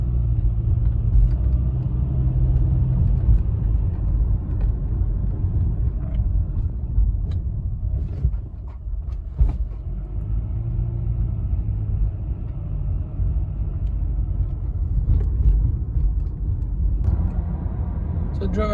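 A Honda car running on fresh oil pulls away from a stop, its engine rumbling steadily and building through the long stretch, heard from inside the cabin with road noise underneath.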